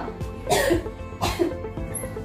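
Two forceful coughs from a woman during chest physiotherapy and postural drainage, close and clear, separated by a short pause, with no talking.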